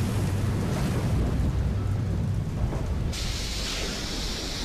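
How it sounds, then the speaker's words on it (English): A storm at sea in the Silent Hunter 3 submarine game roars with continuous heavy rain and wind, deep rumbling thunder underneath, dense and steady with no talking. "We're in the middle of a storm."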